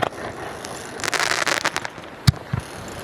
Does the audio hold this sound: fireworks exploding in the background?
yes